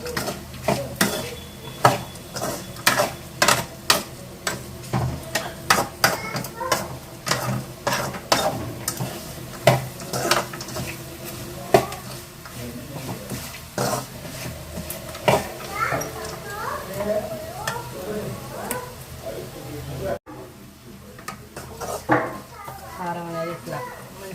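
Okra frying with peanuts and chili powder in a pan over high flame, a continuous sizzle with frequent sharp scraping stirs against the metal, while someone talks over it.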